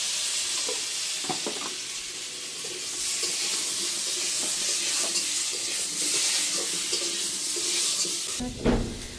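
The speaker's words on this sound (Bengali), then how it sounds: "আলুটা ভাজা হয়ে গেছে, এখন উঠিয়ে নেব।" Potatoes with turmeric and salt frying in a pan, a continuous close sizzle with scattered stirring scrapes and clinks, ending in a louder clatter as the pan is handled.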